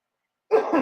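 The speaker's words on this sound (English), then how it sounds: "You have to excuse me, and I had this last week, this cough." A single short, rough cough close to the mic after a moment of silence, with a second smaller push at the end.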